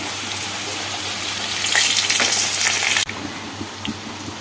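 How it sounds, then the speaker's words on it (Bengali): Hot water is poured into a potato and spice curry, hissing steadily in the pan and swelling into a louder rushing sizzle before stopping abruptly, followed by faint stirring clinks. "আমি এখানে গরম জল দিচ্ছি"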